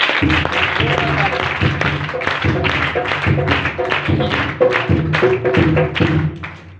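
A crowd applauds, steady clapping that carries on for several seconds before trailing off, with faint voices mixed in.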